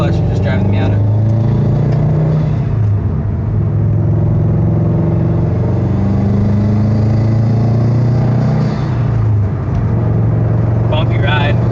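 Inside a 2012 Subaru STI with a stage 2 tune and BC coilovers, the engine drones and rises in pitch as it revs through the gears on a short drive, a steady loud rumble under a person talking.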